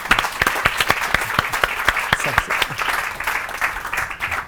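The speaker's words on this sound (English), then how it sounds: "You give her a round of applause" Warm applause from a Functional Forum UK audience greeting paediatrician Priya Kamani as she comes up, a dense, even patter of many hands clapping close by and sustained without any talk.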